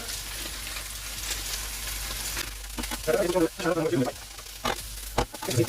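Butter sizzles in a pan of crab fried rice, a steady frying hiss with bursts of stirring and scraping as it cooks, fairly faint and close.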